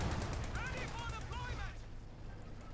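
Gunfire from the video game Company of Heroes 2 crackles as dense, steady battle noise with sharp shot bursts and rising whistles. Voices speak over the fighting, and the din thins toward the end.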